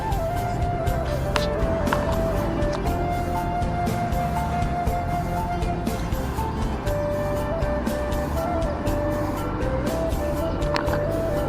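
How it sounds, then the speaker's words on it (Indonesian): Holiday traffic on Jl. Padang–Bukittinggi, as heard from a toll flyover during Lebaran: a steady, continuous hum of passing vehicles with occasional louder engines and a faint tonal whine throughout. "kendaraan sudah mulai ramai ya teman-teman"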